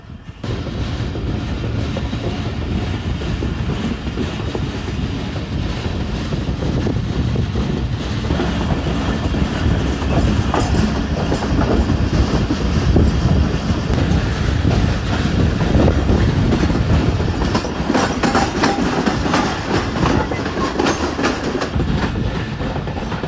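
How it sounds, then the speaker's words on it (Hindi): A Pakistan Railway economy class train rolls along with a steady, loud rumble and rhythmic clickety-clack of wheels on track throughout, with some wind buffeting and no talk. "चल पड़ी ट्रेन, चल पड़ी है।"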